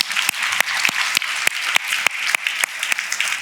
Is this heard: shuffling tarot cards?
no